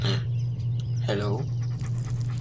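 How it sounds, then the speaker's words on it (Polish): A dog in the video game Postal 2 pants in quick, short breaths. A few brief whimpery bursts come close up over a steady low hum. "Ah, stupid dog."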